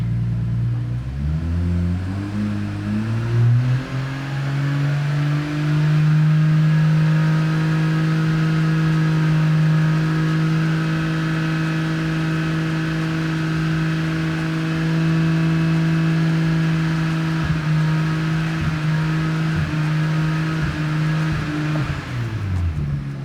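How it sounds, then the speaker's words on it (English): BMW B58 engine rising from a 1200 RPM idle and held at a steady 3500 RPM, a loud, smooth, continuous hum that climbs at first, stays level for about twenty seconds and settles slightly at the end. "Now we're going to increase the idle speed to 3500 RPM and we're going to hold that for 10"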